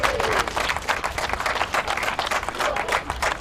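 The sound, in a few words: applause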